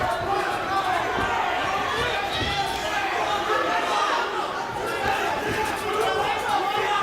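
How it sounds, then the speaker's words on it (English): Fight crowd at a Nick Gonzalez versus James King bout roars and screams in a steady, loud, dense wash of many voices, with shouts rising over the din throughout. "You can hear the crowd literally screaming."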